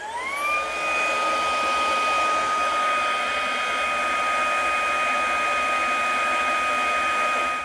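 Fanttik Robustclean Slim V8 Apex handheld vacuum spinning up and holding a steady, loud high-speed whine with a strong airy hiss, continuous and close, alone with no talking.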